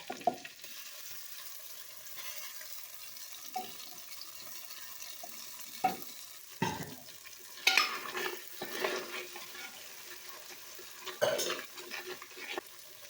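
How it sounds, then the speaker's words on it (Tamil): Ground masala, onions, curry leaves and vadagam frying in oil for a village-style country chicken curry, a low sizzle broken by spoon scrapes and clinks, with a few louder knocks. "இதை நல்லா எண்ணெய் பெரியற வரைக்கும் நல்லா வதக்கிட்டு"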